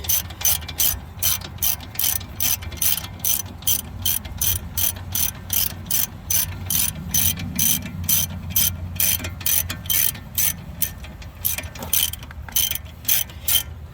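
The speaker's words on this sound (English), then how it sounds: "I'm going to remove this bolt and the bottom bolt." A ratchet wrench loosening a brake caliper bolt while changing front brake calipers, a loud, close, rapid and steady clicking that runs without a break, with a faint mechanical rumble underneath.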